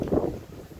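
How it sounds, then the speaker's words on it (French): Strong south wind gusting across a beehive apiary in winter sun, a rough low rumble of wind buffeting the microphone, loudest at the start and easing to a steady blustery roar. "Là il y a vent du sud, je t'explique même pas."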